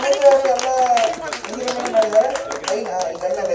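A crowd clapping in a scattered, continuous patter at a temple ceremony for married women, heard beneath a man's loud, close speaking voice.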